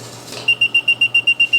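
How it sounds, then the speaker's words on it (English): A water tank alarm float, once lifted, sets off a loud electronic beep that repeats about nine times in a steady, even rhythm after a brief rustle. "this is the alarm float. We'll pick it up, see if it'll go off."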